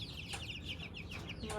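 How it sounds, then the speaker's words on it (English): A small chicken clucking in cold, rainy weather, a quick run of sharp clucks close by, with rain-like background hiss and a voice faintly present. "there's that little chicken again"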